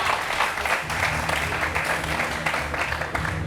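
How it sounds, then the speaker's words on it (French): Audience applause at a lively French-language comedy show, a sustained burst of many hands clapping close by, with voices faintly mixed in. "Applaudissez"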